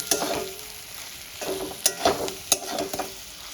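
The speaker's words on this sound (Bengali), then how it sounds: "হালকা হালকা করে কষাতে হবে, নাহলে মাছগুলো ভেঙে যাওয়ার সম্ভাবনা থাকবে।" Katla fish gently fried with spices in a pan over low-to-medium flame, a soft sizzle under intermittent spatula scrapes and light taps, close and fairly quiet with no talk.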